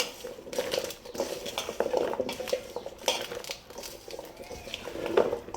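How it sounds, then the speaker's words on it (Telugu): Mango pieces being mixed with oil in a bowl for mango pickle, giving a steady run of close scraping, clattering and clinking from utensil against bowl, with no talk. "ముందు కొంచెం ఆయిల్ వేసుకొని ఇట్ని మంచిగా కలుపుకోవాలి"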